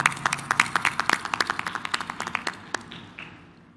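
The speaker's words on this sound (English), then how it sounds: "big applause for them" Audience at a forum clapping in a steady run of sharp, distinct claps that gradually thin out and fade over a few seconds.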